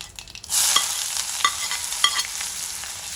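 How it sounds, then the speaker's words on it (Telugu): Chopped onions drop into hot oil where mustard seeds are already crackling, giving a sudden loud sizzle with scattered sharp pops and spattering, close up and with no voice. "ఆవాలు కొంచెం క్రాకలు అవుతున్నాయి కదా, ఇప్పుడు దీంట్లోనే ఆనియన్స్ వేసేసుకుందాం."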